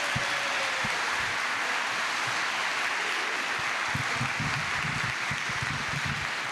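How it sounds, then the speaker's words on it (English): A town hall audience gives a steady round of applause, a continuous rain-like patter of many hands that sounds moderately distant and fairly quiet, with no speech over it. "Could you give a round of applause to Lance Corporal?"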